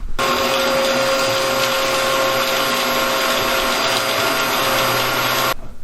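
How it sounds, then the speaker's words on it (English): A vacuum cleaner sucks up insulation and rodent nesting during a home renovation, a loud steady whine and roar that runs unbroken, then cuts off abruptly at the end. "Vacuumed out all the nesting."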